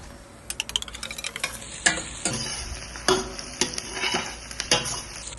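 Onions, chilies and whole spices such as cloves, cardamom, cinnamon and a bay leaf are stirred as they fry in a pan for home-style chicken curry. Close, repeated scraping strokes sound over a steady sizzle, with no talking.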